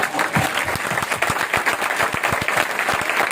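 A crowd claps together at a Christian church convention, loud and dense, with quick overlapping hand claps throughout and no talking.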